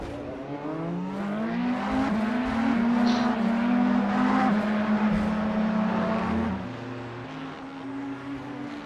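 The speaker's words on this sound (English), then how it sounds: "The actual tyres over the little rumble strips is louder than the engine." A race car in the iRacing sim during Le Mans 24 Hours practice, its tyres drumming over rumble strips under a loud, steady engine note that drops away near the end.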